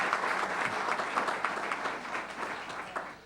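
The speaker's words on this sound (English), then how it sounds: "That really deserves a round of applause." Steady applause from a crowd at a school board meeting, many hands clapping continuously at moderate volume, fading slightly toward the end.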